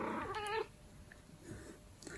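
A cat gives a single short, harmonic meow at the start, close and clear, followed by quiet room noise with faint stirring.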